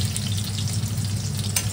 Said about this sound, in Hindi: इसमें तेल रख के फिर भूनेंगे प्याज को अच्छे से